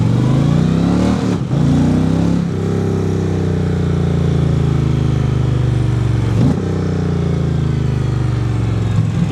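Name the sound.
Indian Chieftain PowerPlus motorcycle engine revving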